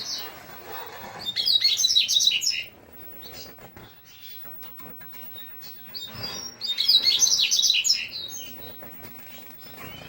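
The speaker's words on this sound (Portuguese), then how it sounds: "Tô com um macho aqui, coleira." Male double-collared seedeater (coleiro) in a song contest setting, giving two bursts of bright, high twittering song separated by a quieter gap with soft rustling and wing flutters, fairly close.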